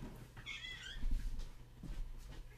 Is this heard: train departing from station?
no